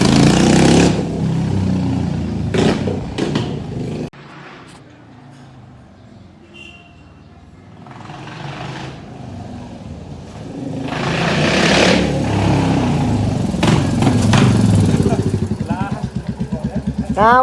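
A Royal Enfield Classic 350 motorcycle with its silencer removed roars and revs loudly, fades as it rides away, then grows louder again on return, ending with a rapid, raw exhaust crackle up close.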